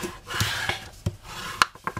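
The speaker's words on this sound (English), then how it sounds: "So we're just gonna burnish the bottom part." A bone folder is rubbed across paper in short burnishing strokes, giving a few quick scraping swipes with small taps in between, close and moderately loud.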